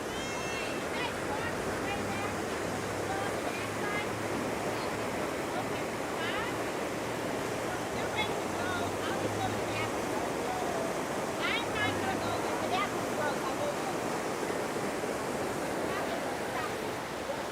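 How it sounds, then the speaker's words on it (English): Rushing river water in Estes Park, Colorado, a steady broadband roar that fills the whole stretch at constant loudness, with faint voices and town bustle mixed underneath. "Amazing to see this, the rushing water."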